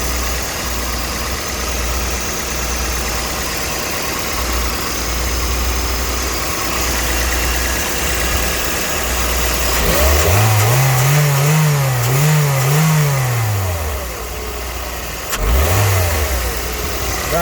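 A Toyota Vitz with a 2NZ-FE engine and automatic gearbox runs at a steady idle, then is revved several times in a row. The rising and falling rpm swells stand out clearly, with one more short rev near the end.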